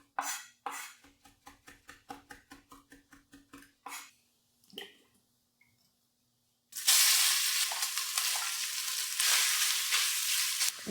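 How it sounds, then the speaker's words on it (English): Sausage browning in a pot, heard as a loud, steady sizzle that takes over after a run of quick knife taps on a board and a short quiet gap. The frying hiss stays close and continuous to the end. "Next, I browned my sausage in the pot."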